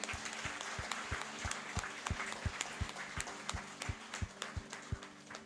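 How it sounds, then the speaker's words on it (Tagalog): A congregation applauding during a Sunday worship service in a church, a faint, steady patter of many hands with regular stronger claps, heard alone without talk. "Malakas na palakpak."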